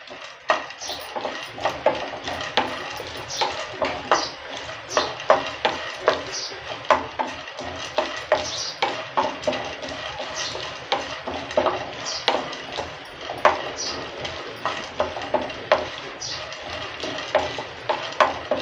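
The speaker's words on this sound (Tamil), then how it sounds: "இதை நல்லா கொஞ்சம் வறுத்துக்கலாம் ரொம்ப வறுபட தேவையில்லை" Repeated scraping and rattling of dry peanuts being dry-roasted and stirred in a pan, a steady rhythmic clatter of a spoon against metal.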